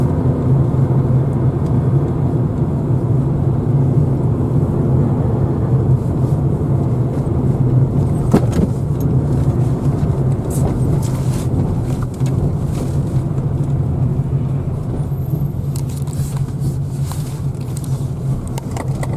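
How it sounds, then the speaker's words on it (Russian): Morning traffic, a stream of cars passing on a road, heard from inside a moving Lada Kalina as a loud, continuous broadband road roar that holds steady throughout. "Такой поток идет машин."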